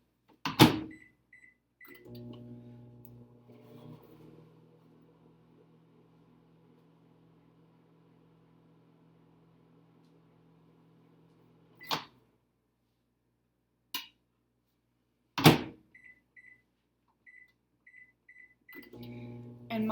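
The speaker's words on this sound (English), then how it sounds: "you can put it in the microwave just for about 10 seconds, just so it gets a little soft" A microwave oven softening turkey-shaped candy hums steadily for about ten seconds, framed by door clunks and handling thumps, with short electronic beeps sounding before and after the run.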